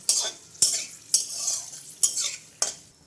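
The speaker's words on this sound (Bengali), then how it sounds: "আস্তে আস্তে নাড়তে থাকবো যতক্ষণ না হালকা একটু গন্ধ বেরোয়" Spices are stirred in a pan over a low gas flame, with five evenly spaced scraping strokes of a utensil and a soft sizzle between them, close and clear.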